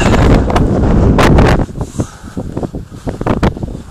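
Heavy wind buffets the microphone in a loud rumbling gust near Dingle, Ireland, then eases into choppier, intermittent blasts and rustling.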